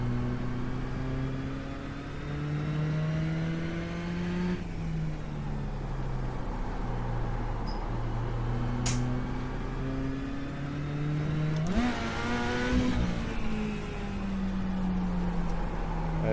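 A Mini Stock race car engine in a racing video game drones steadily, pitch climbing and dropping through gear shifts, with a sharp high whine rising near the end; no talking.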